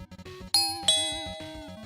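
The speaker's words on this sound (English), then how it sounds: "The doorbell rang and I went to open the door." A two-tone doorbell rings, ding then dong, the chimes ringing out and slowly fading over a soft rhythmic musical background.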